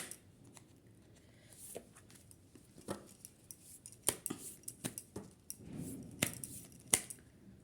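Tarot cards are pulled from a deck one at a time, making soft, close snaps and slides of card stock in scattered bursts, with quiet handling between draws and no talking.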